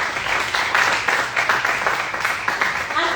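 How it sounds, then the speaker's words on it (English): Audience applause at a summit after a speaker finishes, steady dense clapping from a crowd filling the whole stretch with no voices over it. "That clap is too small for the impact that Dr. Delega has given us."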